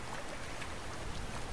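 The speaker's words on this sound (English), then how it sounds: "I'm pretty sure this is a waterfall." A waterfall in the video game Conan Exiles gives a steady, dense rushing hiss of falling water, constant and fairly loud, with no other sounds standing out.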